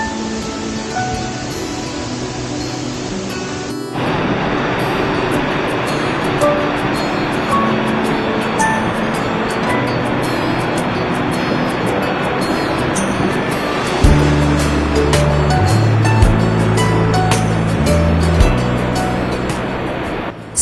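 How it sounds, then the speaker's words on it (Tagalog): Sabang Falls in Quezon Province pours as a loud, steady broadband roar of rushing water, close and constant, with a low rumble joining later. "At makikita mo talaga itong very beautiful na waterfalls."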